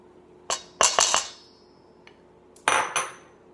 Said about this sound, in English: I'm just going to give these a quick stir around here